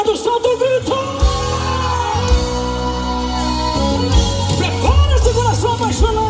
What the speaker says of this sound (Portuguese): Só quem tá apaixonado, solta o grito.